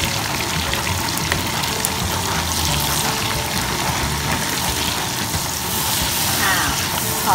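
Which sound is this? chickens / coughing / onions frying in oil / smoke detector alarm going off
onions frying in oil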